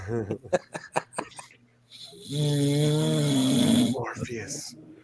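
A man snores loudly on a live stream, one long rasping, buzzing inhalation following a stretch of talking and then trailing off.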